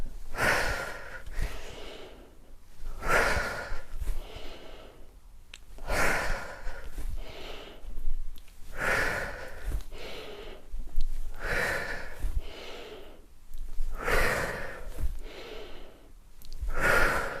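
Rhythmic, heavy breathing during a lymphatic drainage workout, loud and close, with strong inhale and exhale bursts repeating roughly every one to two seconds throughout, no talking.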